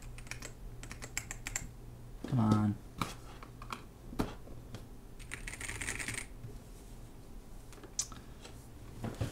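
Scattered keystrokes on a computer keyboard, a few isolated taps and a brief burst of clicking, quiet and close, with a person talking intermittently.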